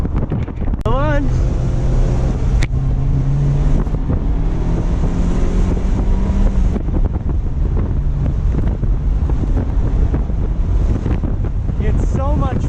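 A 1993 NA Mazda Miata revs up through the gears while driving, rising engine pitch sweeps repeating under heavy wind buffeting, loud and close, with occasional voices.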